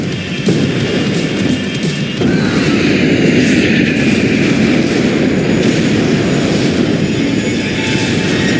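Loud, steady roar of an airplane engine in the Max Payne 3 video game, a dense continuous rumble holding throughout with a brief dip near the start and no voices.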